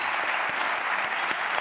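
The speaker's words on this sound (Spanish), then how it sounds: "pues un aplauso para Sofía" Studio audience on a Spanish late-night TV talk show claps in steady, dense applause, loud and continuous throughout the short moment, with no voices standing out.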